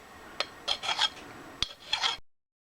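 Short rasping strokes of a fine file working a metal Harley sidecar nut, about five scrapes in two bursts, close and fairly quiet, ending in silence.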